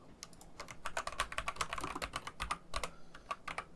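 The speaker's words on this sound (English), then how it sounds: "Yes, keyboard, I know." Quick, irregular keystrokes clatter on a computer keyboard nearby, a soft run of clicks with brief pauses and no talking.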